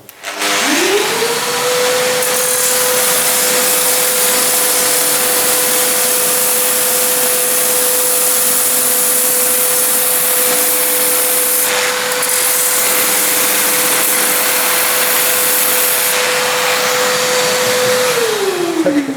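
An angle grinder cutting tile through a dust-extractor shroud gives a steady, loud whine with a constant motor tone and broad hiss without a break, starting with a quick spin-up and winding down at the end.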